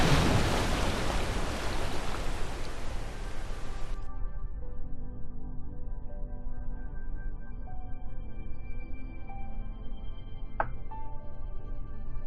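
A spacecraft splashes down in the ocean in Kerbal Space Program with a loud rushing wash of water for about four seconds, then a quiet tonal hum with a faint click.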